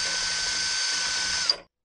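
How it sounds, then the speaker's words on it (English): Cordless drill spinning the brushless motor of an Ego battery-powered leaf blower at full speed, a loud, steady high whine close by that cuts off abruptly near the end. "So here it's going to be full speed on my drill."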